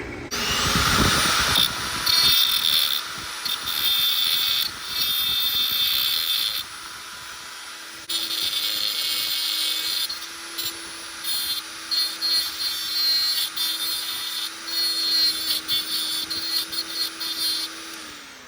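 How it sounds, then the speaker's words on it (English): An angle grinder grinds a metal plate flat on a 1995 Camaro during an AC delete, its high whine running in loud bursts with short pauses and a steady motor drone underneath. "I'm gonna grind it down just a little bit to make it flat with the angle grinder."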